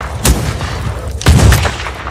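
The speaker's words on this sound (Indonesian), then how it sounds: "Meteo yang pemberani membalas tembakan Nathan" Two loud, sharp gunshots ring out about a second apart, close and booming, with no talking.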